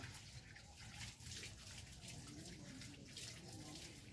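A tap runs steadily at a sink in a home courtyard as an elderly grandmother's hands are washed, a continuous close splashing hiss under faint background voices.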